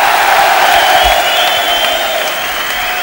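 An audience claps steadily for the robot Murphy after it wins a tiebreak at the Alcabot 2004 tracker-robot final, a sustained burst of applause from a crowd.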